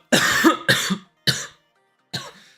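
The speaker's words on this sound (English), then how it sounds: "coughing a little bit." Four harsh coughs, the first three close together and the last after a short pause, loud and near with silence between.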